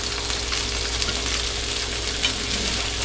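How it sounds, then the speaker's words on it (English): Fajita filling sautéing in a pan, giving a steady, close frying sizzle with a faint stirring texture running under it throughout, with no talking. "Flip it. This is how you saute."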